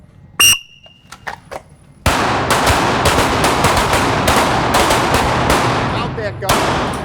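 Rapid bursts of gunfire from a live-fire shooting drill at a training class in Terre Haute, Indiana, loud and near, running almost continuously for several seconds after a brief pause with a few isolated shots.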